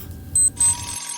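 A morning alarm goes off in a quiet room, sounding two short high electronic beeps over a soft low background that drops away afterward.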